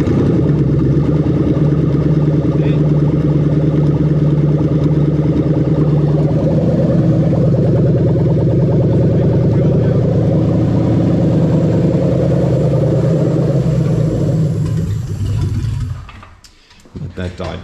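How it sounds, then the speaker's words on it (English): An engine run by a Link ECU drones steadily and loudly for about fifteen seconds, with the starter set to crank at 400 RPM, then cuts off abruptly with a brief rattle. "as we go to start it, you'll see exactly what RPM it's cranking at"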